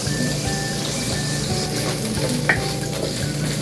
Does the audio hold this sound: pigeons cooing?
no